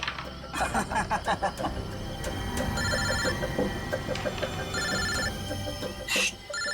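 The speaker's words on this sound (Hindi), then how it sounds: "बॉस का फोन है" A telephone rings in repeated electronic bursts, with mechanical clicking and rattling noises in between and around the rings.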